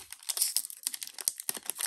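Someone tearing open a Crimson Haze trading card booster pack by hand without scissors: close, continuous foil crinkling and ripping with rapid crackles throughout.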